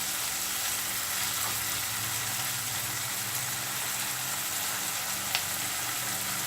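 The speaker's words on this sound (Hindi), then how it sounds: "अच्छे से फ्राई होने दीजिए। इसको पकने दें हम 2-4 मिनट के लिए।" Paneer sizzles and fries in a pan for chili paneer, a steady close crackling hiss with occasional small pops and no talking.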